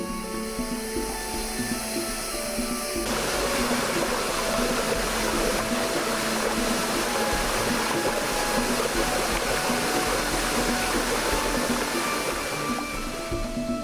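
Waterfall in Kaeng Krachan forest, Thailand: a loud, constant rushing roar of falling water heard close up, steady and unbroken throughout with no voices.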